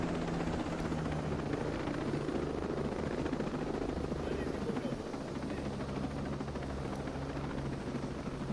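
Helicopter in the video game Ghost Recon Breakpoint, a steady close rotor drone and engine roar filling the whole stretch without a break, with a player talking faintly beneath it.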